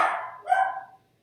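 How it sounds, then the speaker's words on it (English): A dog indoors gives two quick barks, the second a little higher and sharper, close by and moderately loud before the room falls quiet. "Sorry about my dog."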